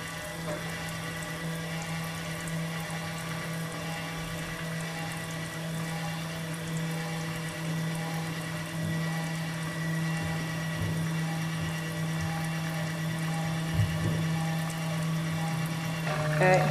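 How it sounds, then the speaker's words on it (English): Milk flows steadily through a cream separator spinning at speed in a traditional Irish farmhouse, a continuous humming whir with a trickling liquid wash that holds even throughout. "Separator is going at the proper speed, so I will turn on the milk here."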